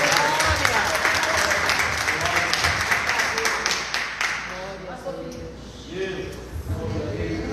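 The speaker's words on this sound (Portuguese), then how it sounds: "Uma salva de palmas bem forte aí para Jesus." A church congregation applauds loudly with dense, sustained clapping that thins out toward the end as voices come through.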